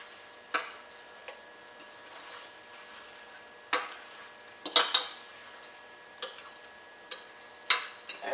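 A spoon stirring lobster tail stuffing with mushrooms in a bowl, giving scattered light clinks and taps against the dish at irregular intervals, close and quiet with no talking.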